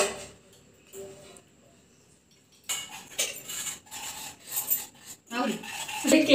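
A spoon scrapes and clinks against a bowl while cake batter is mixed with cornflour, quiet at first, then a run of louder irregular rubbing and tapping strokes close by.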